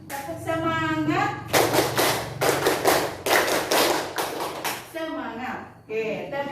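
A class of students doing a rhythmic group clap, several loud clustered bursts of hand claps in a patterned beat, close, framed by a speaking voice before and after.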